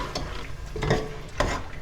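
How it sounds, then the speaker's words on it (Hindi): Mutton fries with tomatoes in a pan, giving a close, steady sizzle cut by a few sharp scrapes and knocks of a spoon stirring the meat. "गोश्त की थोड़ी बुनाई कर लेते"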